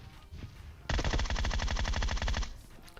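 Rapid automatic gunfire from the PUBG Mobile battle royale game bursts out in one sustained, evenly paced stream of shots lasting about a second and a half, loud and close, with no talking over it.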